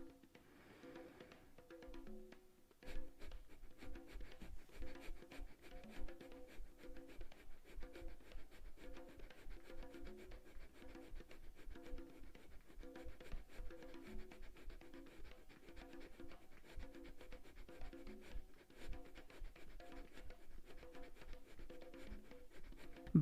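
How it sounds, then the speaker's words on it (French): During a fire-breathing exercise for singing practice, a person breathes rapidly in and out through the nose only. The quick, rhythmic puffs repeat in a steady pulse for about twenty seconds, close but quiet. "nous allons inspirer et expirer uniquement par le nez pendant 20 secondes."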